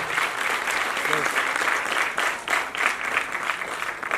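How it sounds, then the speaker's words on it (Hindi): Loud audience applause fills an award ceremony honouring performers at the Nataraj Gopi Krishna Parampara Samman, a dense, steady wash of clapping held for several seconds with slight swells. "बड़ी जबरदस्त जोरदार तालियां होती हैं।"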